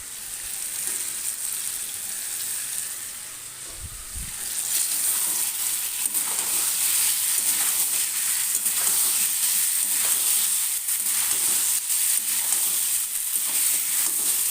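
Boiled vegetable stalks sizzle loudly in hot oil, starting with a gentler fry and then a brief clatter as they are added. The sizzle becomes a fuller, steady crackle with occasional stirring scrapes, and nobody speaks.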